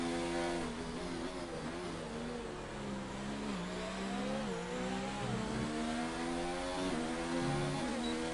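Onboard race car engine in a sim racing game at the Canada round, revving and shifting through the gears continuously, loud and close, with the pitch rising and falling and a brief squeal of tires.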